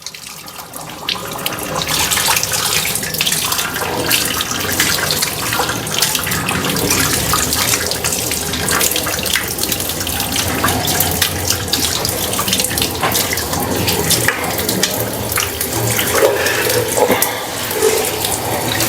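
Kitchen tap water gushes steadily into a sink, a continuous broadband rush holding at a constant level for the whole stretch.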